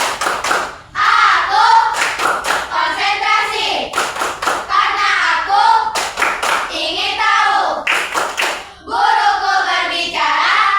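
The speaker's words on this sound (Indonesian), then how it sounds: "Tepuk tangan teman-teman" A group of schoolchildren claps in a steady rhythm in repeated bursts, mixed with chanted Indonesian classroom clapping chants, loud and close.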